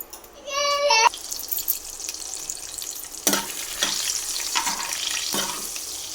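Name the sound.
cumin, dried chilies and dried fish frying in oil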